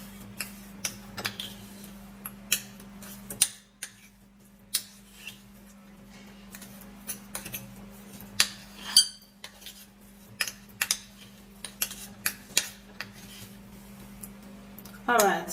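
Spoon scraping and tapping in a small dish while baking soda paste is mixed, a steady run of light clinking strokes at close range with a faint hum underneath.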